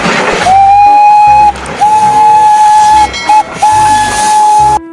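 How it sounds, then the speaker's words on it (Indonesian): A Thomas toy train gives off a loud, close, hissing electronic steam whistle in several sustained blasts with brief breaks and chuffing noise underneath. "Widih, yang ini kereta Thomas."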